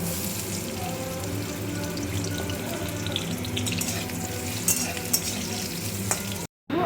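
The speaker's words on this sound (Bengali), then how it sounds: "এবারে এই তেলে দিয়ে নেব আলু" Potatoes fry in hot oil with a continuous, even sizzle and a low hum underneath. The sound holds steady and close, then cuts out briefly just before the end.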